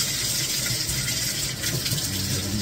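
Tap water runs in a continuous steady gush, close and fairly loud, as it fills for bathing a dog, with no talking over it.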